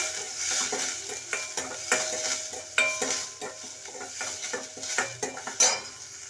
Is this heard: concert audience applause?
no